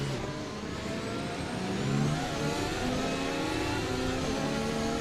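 Race cars on a racing circuit, a steady engine roar that holds at a constant level with a slight swell partway through, unbroken throughout and with no voices.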